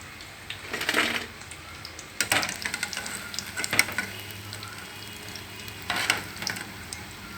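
Brinjal bajji, eggplant fritters, sizzle in hot oil in a pan, with a steady frying hiss broken by several louder bursts of stirring and spattering.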